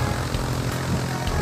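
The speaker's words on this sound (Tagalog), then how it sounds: "Uy, lakas ng fan!" The strong wind of a propeller aircraft's spinning fan blows with a loud, dense roar, broadband and steady, with a low throbbing hum underneath and no voices.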